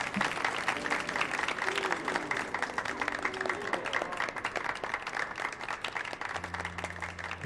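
Crowd applause in a Final Fantasy XIV cutscene, a continuous wash of clapping held at an even level throughout, with game music tones underneath and a low sustained tone entering near the end.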